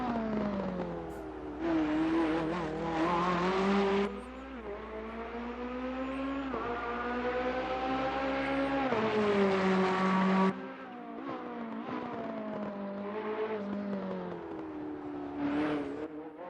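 A race car engine in the video game Assetto Corsa Competizione whines and revs, its pitch climbing and dropping through gear shifts as it roars past, loud and continuous.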